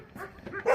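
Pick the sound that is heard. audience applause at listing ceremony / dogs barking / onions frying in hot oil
dogs barking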